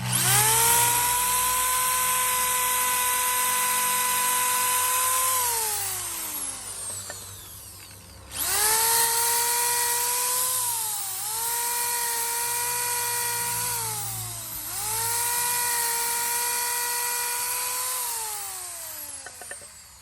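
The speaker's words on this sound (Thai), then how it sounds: "ตัวนี้เดี๋ยวเรามาลองเจาะไม้ให้ดูกันเจาะแบบมือเดียวเลยนะฮะ" A KRESS KU120 650 W 13 mm electric drill bores into wood, giving a loud, close, high whine that drops in pitch as the bit bites and then rises again, repeated over three cycles with a short pause between.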